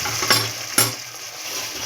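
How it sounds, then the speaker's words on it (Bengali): Pre-fried potatoes drop one after another into a hot pot of chicken biryani, each landing with a quick splash and a burst of sizzling over a steady background fry, close and without talk. "এবার আমি এর মধ্যে আলুগুলো দিয়ে দেবো।"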